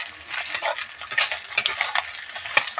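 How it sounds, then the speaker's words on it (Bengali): A fish head and potato pieces fry in a pan, giving a soft, crackling sizzle broken by scraping stirs, close and steady with no talk. "এরকম একটু লাল লাল করে ভেজে নেবে মাছের মাথাটা, আলুগুলো।"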